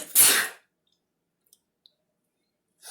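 A single sharp, loud sneeze bursts out at the start, close to the listener, followed by near silence broken only by a couple of tiny clicks.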